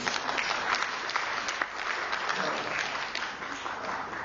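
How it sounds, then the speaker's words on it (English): A modest conference audience claps in a thin, scattered patter that holds steady for a few seconds before tapering slightly. "That's a rather tepid applause."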